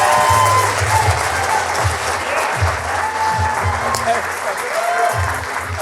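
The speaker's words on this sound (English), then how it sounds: "Big round of applause." A big round of audience applause at a live club fan event on the eve of a home opener, with loud sustained clapping and crowd noise, while a voice speaks over it.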